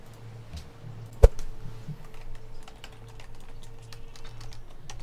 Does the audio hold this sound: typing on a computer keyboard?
yes